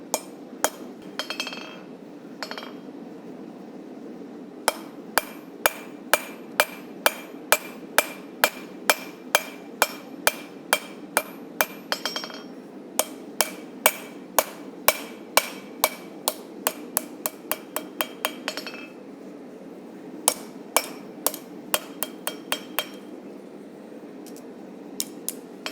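A hammer knocks a guard into place on a railroad spike knife, sharp ringing metallic strikes coming in quick rhythmic runs separated by short pauses, close and clear.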